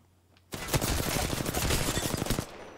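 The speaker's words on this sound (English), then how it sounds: "The enemies are shooting at me." Enemy gunfire in Apex Legends bursts in suddenly, a dense rapid-fire volley of close, loud shots that rattles on for about two seconds and then cuts off.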